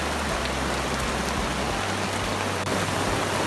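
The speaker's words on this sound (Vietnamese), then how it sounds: "Bây giờ trời đang mưa rất lớn." Heavy rain pours down in a forest during a thunderstorm, a steady dense roar of drops drumming on a tarp and foliage that fills the whole stretch at an even, loud level with no voices.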